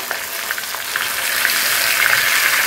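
Marinated chicken pieces frying in oil in a small wok give a loud, steady, crackling sizzle that swells slightly as it continues, with no voices.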